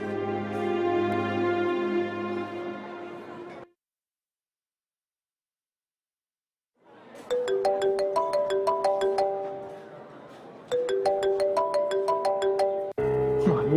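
A phone ringtone plays a repeating melodic tune, stops for a few seconds of silence, then rings again loudly in repeated bursts.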